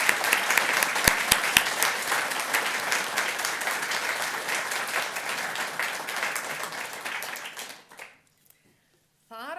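Dense, sustained clapping from an audience at an Icelandic research centre gathering, steady for about eight seconds before dying away abruptly into near silence as a voice begins to speak.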